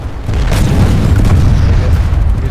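A generator blows up in the video game Planetside 2, a loud boom that rolls straight into a sustained, rumbling low roar lasting a couple of seconds.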